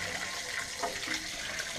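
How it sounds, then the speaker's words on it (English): Water drains out of a vacation house's pipes and hot water tank, a faint, steady gurgling trickle, fairly distant, with no voices. "So now you get all the pipes that are starting to drain."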